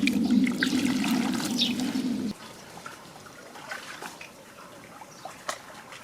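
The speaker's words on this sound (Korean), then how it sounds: "이렇게 물에다가 한 번만 씻어 주시면 돼요." Napa cabbage greens being washed in water: a loud rush of running, splashing water for about two seconds cuts off, followed by quieter dripping, trickling and light handling sounds nearby.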